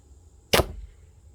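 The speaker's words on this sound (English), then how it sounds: "Our first shot with our first arrow gave us this result." A crossbow fires an arrow into a sheet of paper from two or three yards away: one sharp, loud thwack-and-rip burst, brief and isolated in a quiet setting.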